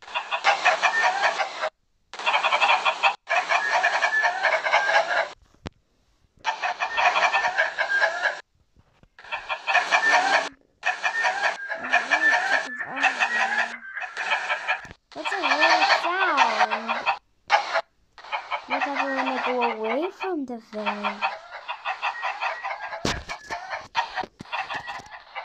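Chickens cluck and squawk in repeated bursts close by, some calls rising into rooster-like crowing, with short quiet gaps between the busy flurries.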